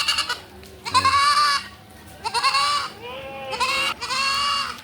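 Several goats bleating loudly and close by, a few drawn-out cries with short pauses between them.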